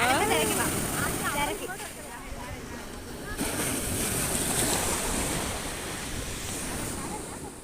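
Sea waves wash onto a beach at Kozhikode in a continuous surf roar mixed with wind noise; people talk faintly in the background.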